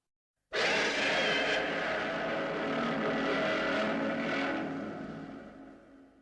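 A huge roaring screech from the giant movie monster Varan bursts in suddenly, harsh and sustained, then slowly trails away; loud and alone.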